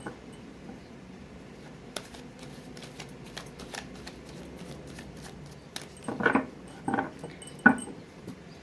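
Tarot cards being shuffled by hand, soft papery riffles and taps building to a few louder, distinct shuffle bursts near the end, close and quiet with no talk.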